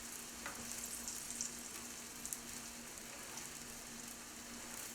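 Croutons fry in oil and butter in a pan, giving a soft, even sizzle with faint crackles and occasional stirring clicks, quiet and close with no talking.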